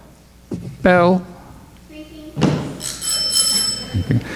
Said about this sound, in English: When they hear the timing bell.